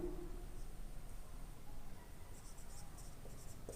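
Chalk or marker scratches across a board during a Class 10 physics lesson on reflection of light, faint, quick strokes in a quiet room.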